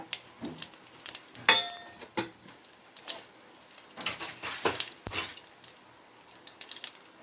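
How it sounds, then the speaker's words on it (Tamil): Cumin, fenugreek and dried red chillies fry in oil in a pan for spinach thokku, giving soft, scattered sizzles and crackles with occasional light clinks of a utensil against the pan. The sounds are close and quiet, with no talking. "இதெல்லாம் கொஞ்சம் பொரியட்டும்"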